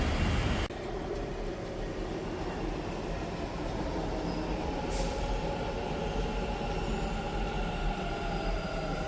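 A metro train rumbles through Kengeri metro station in Bengaluru, a loud, steady low roar of wheels and carriages that holds throughout with a brief high squeal midway.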